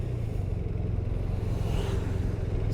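A BMW R 1250 RT motorcycle rides at low speed through town, with a steady low engine rumble close by and a wash of road and wind noise, no talking.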